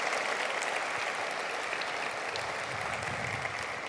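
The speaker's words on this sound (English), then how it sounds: "Give them a round of applause for how they work." A crowd at a county executive's State of the County address gives steady, dense applause for local council members, filling the room evenly from start to finish without speech.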